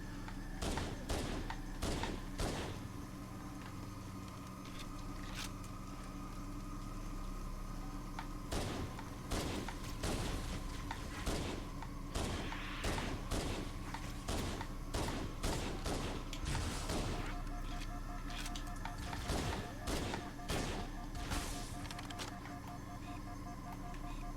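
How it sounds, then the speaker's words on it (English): CE pistol shots in Halo: The Master Chief Collection ring out as sharp repeated cracks, in quick clusters and scattered singles across the stretch, over a humming game background at moderate level. "The CE pistol is so good."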